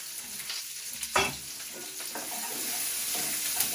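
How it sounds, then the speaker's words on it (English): Onions, ginger and garlic frying in hot oil while being stirred, a steady close sizzle with scraping stir strokes and occasional louder bursts, no talking. "And I'm gonna give that a good stir."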